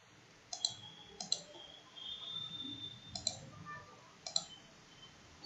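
Computer mouse clicks in accounting software, a handful of sharp, quiet clicks, some doubled, spaced irregularly over a low room hush with no talking.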